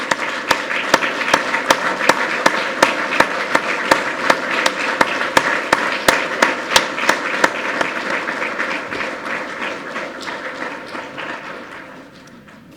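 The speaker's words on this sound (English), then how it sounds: "just to stand up and to receive a round of applause from everyone in the room" A room full of people at an engineering awards ceremony applauds the standing finalists, a dense steady wash of clapping with sharper individual claps on top that holds for about ten seconds before gradually thinning and fading out.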